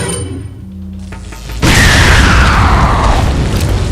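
A loud, booming grenade explosion in Resident Evil 4 Separate Ways bursts in suddenly after a quieter stretch, followed by a sustained rumbling roar with crackling debris.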